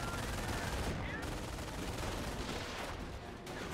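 Dense gunfire rattles in Company of Heroes, a World War II strategy game set in the invasion of Normandy, as steady overlapping bursts of small-arms and machine-gun fire, loud and continuous throughout.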